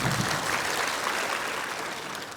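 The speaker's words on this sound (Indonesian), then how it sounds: "Tepuk tangan dulu lek" Audience applause at a Buleleng regency community gathering in Bali, a steady wash of many hands clapping at once, fairly distant and even throughout, with no voices cutting through.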